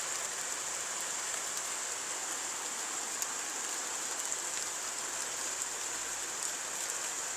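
Heavy rain pours steadily during a violent summer thunderstorm in Carpentras, a dense, continuous hiss of drops on surfaces with no pauses and no thunder, fairly loud and close throughout.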